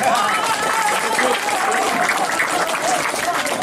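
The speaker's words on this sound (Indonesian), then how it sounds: "Mana tepuk tangannya?" An Indonesian crowd at a speech about Bandrong bursts into sustained, dense clapping on cue, loud and even from start to finish, with faint voices mingled in the applause.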